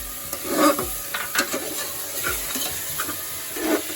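Garlic and onion fry in a pan with ginger paste for a mutton curry, giving a steady close sizzle broken by repeated scraping stirs of the spoon, with no talking.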